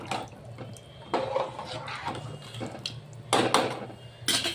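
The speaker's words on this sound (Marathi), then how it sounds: "थोडं आणखीन पाणी टाकते मी दाणे शिजण्यासाठी" Water poured into a cooking pan of simmering pigeon pea and spinach curry, a soft splashing pour in a few bursts with faint clinks of the pan, no talking.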